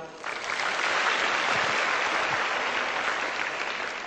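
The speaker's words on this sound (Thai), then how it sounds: "ขอเสียงปรบมือดังๆให้กับคุณจีรนันเทิดไทยวรกิจด้วยครับ" Audience applause at a business seminar, a broad, even roar of many people clapping that swells in quickly and holds steady, heard from some distance.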